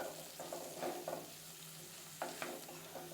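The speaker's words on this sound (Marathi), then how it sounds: "आता हे मसाले छान व्यवस्थित असे परतवून घ्यायचं" Spices, including a spoonful of pav bhaji masala, are sautéed in a pan for dalia khichdi, with soft scraping stirs repeating over a faint, steady sizzle, quiet and close.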